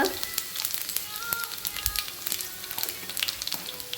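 Garlic paste and a pinch of asafoetida hit hot oil with crackling cumin and mustard seeds while cooking stuffed ridge gourd, giving a close, busy sizzle full of quick irregular pops.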